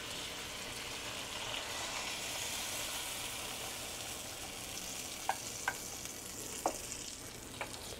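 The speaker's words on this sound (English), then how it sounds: "Now I'm gonna add all my sauce." Sauce hits a hot pan of pork ribs for a red-sauce ribs and beans dish, giving a continuous soft sizzle and hiss, with a few light utensil taps toward the end.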